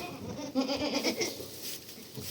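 Goats bleat in wavering, nasal calls close by, several overlapping cries over a couple of seconds.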